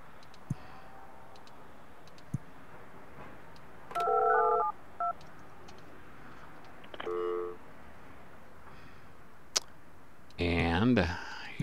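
Phone line dialing tones in the Project Highrise building game: a few short bursts of stacked dial-tone beeps, with a longer warbling electronic chirp near the end, over faint background ambience and scattered clicks.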